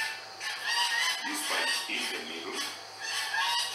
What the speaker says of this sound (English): You can hear the birds, the poultry.